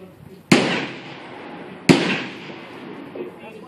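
Two loud shotgun blasts fired outdoors at target practice, about 1.4 seconds apart, each a sharp crack with a decaying echo tail, and a faint voice briefly audible near the end.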